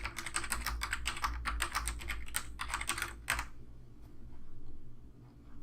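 Fast typing on a computer keyboard while filling in a form, a dense clatter of close keystrokes for about three seconds, then quiet room tone.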